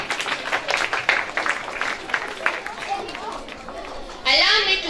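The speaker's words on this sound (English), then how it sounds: "May we please give Him a round of applause" A ceremony audience gives a round of applause, a brief scattered clapping that fades as chatter and a voice take over near the end.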